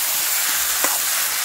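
Boiled eggs and potatoes dropped into a pan of spiced fig curry, giving a steady close sizzle with a brief louder hiss as they hit the hot masala; no talking.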